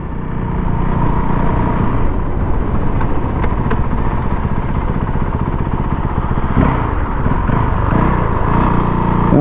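A Honda CRF450 dual sport motorcycle engine runs steadily and loud while being ridden, a continuous close-up drone with no speech.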